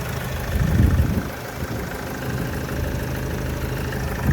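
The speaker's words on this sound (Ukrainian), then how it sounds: "тут одразу чути, як працює моторчик" A 2.0 diesel engine of a 2010 Opel Vivaro van idles steadily nearby, a low rumbling drone with a slight knocking texture, no talking.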